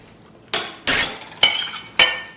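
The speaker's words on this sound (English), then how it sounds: "let's move the spoon out of here" A metal spoon is lifted from a dish of stovetop-cooked apples and set down, giving four sharp, close clinks spaced across a couple of seconds against near silence.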